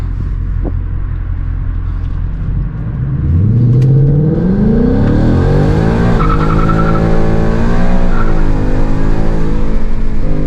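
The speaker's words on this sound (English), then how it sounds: "So 0 to 60, countdown start, make sure we're in drag mode, traction control off." A car fitted with a Corsa cold air intake launches hard from 0 to 60 in drag mode with traction control off, its engine note climbing steeply through several shifts. Tire squeal is heard, and the sound is loud and close with no talking.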